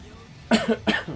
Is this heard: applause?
no